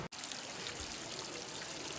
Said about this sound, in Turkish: Bu sadece şöyle hafif akıyor yani.